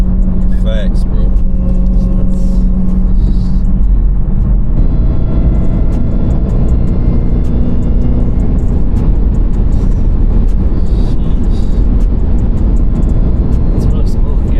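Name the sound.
Jeep Grand Cherokee Trackhawk engine whine while accelerating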